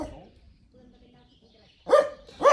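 A dog barks twice near the end, loud and close, after a quiet stretch with faint background sounds outdoors.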